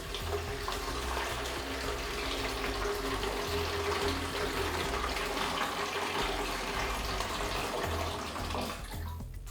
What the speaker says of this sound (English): Lovely noise of pouring water.